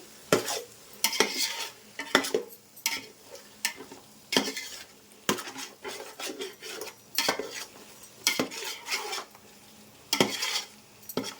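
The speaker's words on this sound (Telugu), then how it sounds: "వేసేసుకొని ఒక 2 మినిట్స్ మసాలాలో బాగా కలిపేసుకుందామండి" Boiled eggs are stirred into masala in a pan for egg pulao, a spoon scraping and clanking against the metal in repeated uneven strokes over a soft steady sizzle, close and fairly loud.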